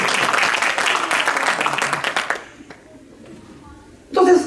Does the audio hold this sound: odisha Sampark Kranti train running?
no